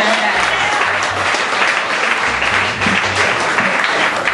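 Church congregation clapping during a Black History Month service, a continuous wash of applause lasting the whole stretch, loud and even with faint low background sound beneath.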